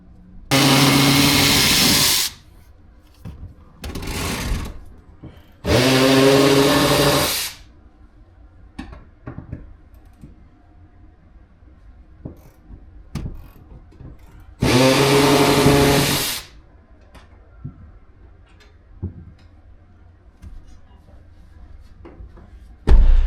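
A ratchet with a 3/8 socket works bolts out of a car seat in a Dodge Magnum, with several loud bursts of buzzing whirring separated by quiet gaps full of small clicks and knocks.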